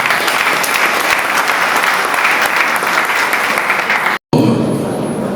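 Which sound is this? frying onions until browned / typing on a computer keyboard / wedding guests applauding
wedding guests applauding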